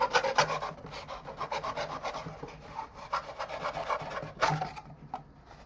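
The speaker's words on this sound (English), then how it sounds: "you just need any sharp object to cut this open" Sharpened half of a scissor blade rasping and scraping as it cuts open a foam air filter for a 3.75 hp Murray mower, a steady scratchy sawing rhythm close by with brief louder strokes near the end.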